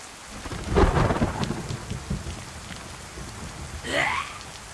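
Steady rain pours in the DayZ survival game on the Livonia map, with a rumbling thunder crack early on and a rolling thunder roll near the end, heard without voices.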